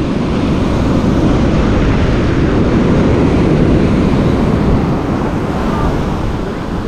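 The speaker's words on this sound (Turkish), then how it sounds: "Böyle dalgalı bir deniz." Rough, choppy sea breaking along a Bali coastline, a loud continuous wash of surf with steady roar and wind buffeting the microphone throughout, no distinct pauses between waves.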